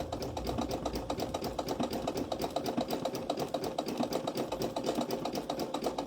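A sewing machine runs steadily, stitching an appliqué bunny onto a dishtowel with a fast, even mechanical chatter that continues without pause, close and moderately loud, with no talking.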